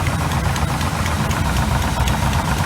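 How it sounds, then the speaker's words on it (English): A 1986 GMC Sierra with a 400 small-block V8 idles steadily after a new distributor install, a dense, continuous low rumble close to the engine with no talking. "it's idling a lot better now"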